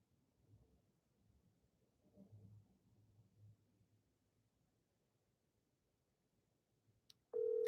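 A telephone line tone cuts in loud and alone in the final moments of a call, after a long stretch of faint low background rumble.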